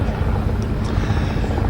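An Avro Vulcan delta-wing bomber lands at the Farnborough air show, its engines a loud, steady roar that fills the whole stretch.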